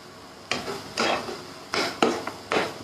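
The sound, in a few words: masala sautéing and being stirred in a pan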